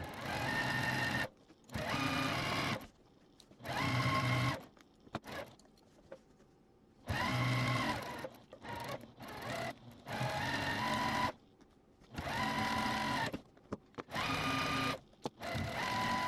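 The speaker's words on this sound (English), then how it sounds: "so I'm going to sew using a 1/4 inch seam allowance down both of these" A sewing machine stitches the seams of a gingham pillow case in a quiet room, running in several steady whirring bursts of a second or two, separated by short pauses.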